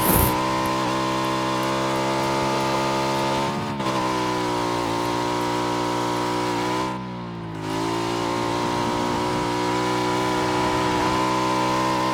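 A stolen motorbike's engine in a video game drones at a steady high rev for the full stretch, loud and close, with a brief dip near the start and a short drop in pitch just past the middle.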